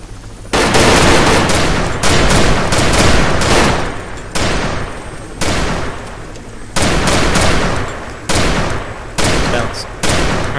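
Loud bursts of automatic gunfire crack out in the military game Arma 3, several rapid fusillades in repeated volleys separated by short pauses, close and harsh.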